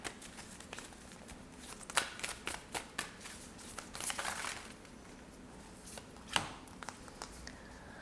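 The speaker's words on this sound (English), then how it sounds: "we're going to shuffle this deck right here to get any more last affirmations going on" Deck of affirmation cards being shuffled by hand, giving soft repeated riffling and flicking bursts with a few sharper snaps, close and fairly quiet, no talking.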